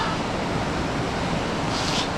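Whitewater at Cucumber Rapids in Ohiopyle rushes past a boulder field at high winter flow. A loud, steady broadband roar of water continues without a break, with some wind buffeting the microphone.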